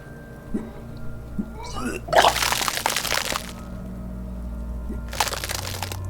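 Vomiting effect from the video game Disco Elysium: a wet, splattering retch bursts out loudly, then a second gush follows a few seconds later, with softer gurgles before and a steady low hum beneath.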